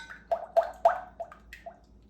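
Carrier oils poured into cooled, melted shea butter for a homemade beard butter, making a series of soft drips and plops, about six quick liquid splashes spaced unevenly, close and fairly quiet.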